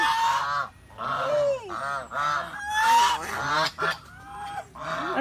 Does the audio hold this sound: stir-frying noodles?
no